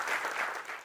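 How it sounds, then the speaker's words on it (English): A short burst of applause from an audience, steady clapping throughout with no voices on top. "please give a big round of applause for Manan Kathuria"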